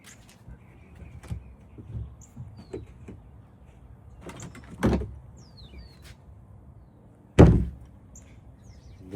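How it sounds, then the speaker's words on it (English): A garage door is pulled shut while a boat is being readied, giving a couple of dull, close thuds, with a heavier final slam near the end against quiet background noise. "Got to shut the door"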